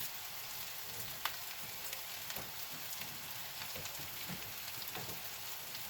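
Sliced onions fry in a pan beside brussels sprouts, making a constant, even crackle and sizzle like steady rain, with small pops scattered throughout and no voices.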